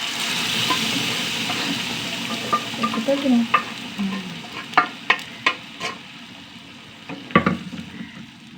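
Cooked dal pours into a pan of sizzling fried curry leaves, shallots and dried red chillies, giving a steady frying hiss broken by sharp crackling pops and stirring scrapes, close and fairly loud with no talking.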